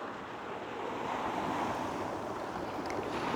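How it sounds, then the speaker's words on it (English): Ocean waves crash onto the shore in a continuous, wind-blown roar of surf that swells slightly partway through, with no voices over it. "the waves continued to crash onto the shore"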